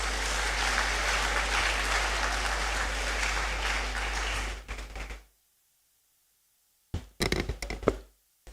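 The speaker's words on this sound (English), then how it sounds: "A round of applause as she comes." Audience applause at an inaugural lecture, a dense sustained clapping from a full hall that cuts off after about five seconds, followed by a short burst of brief knocks and handling sounds.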